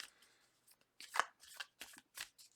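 Tarot cards being shuffled by hand in a quiet room, a series of soft riffling bursts with brief pauses between them, close and alone with no talking.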